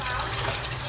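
Warm water runs steadily from a kitchen sink tap, a continuous close hiss and splash that holds level for under a second with no pauses.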